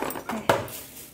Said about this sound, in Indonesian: Oke, pakai sendok ini nih.